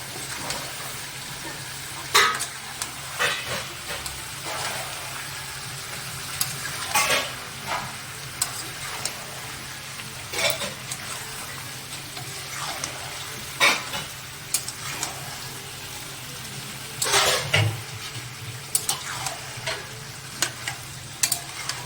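Taro stems with shrimp, cumin, ginger, green chilli, turmeric and coriander powder fry in a pan, giving a steady low sizzle broken by repeated sharp stirring scrapes and clinks of a spatula.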